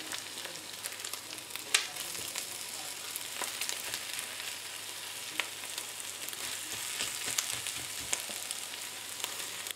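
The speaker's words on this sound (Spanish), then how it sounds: "Y ahora agregamos a la sartén. Y poco a poco vamos revolviendo." A potato and ham scramble fries in a pan with a quiet, steady sizzle and crackle, broken now and then by soft taps and scrapes as it is stirred. No one speaks.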